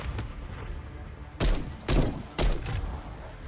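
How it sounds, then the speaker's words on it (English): Three loud, sharp sniper rifle shots from the Call of Duty video game ring out about half a second apart, each a broadband crack with a short decaying tail over steady game background noise. "That's a sniper rifle"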